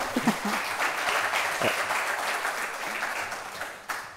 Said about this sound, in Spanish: un aplauso para Ariosto de Haro, de Labor Control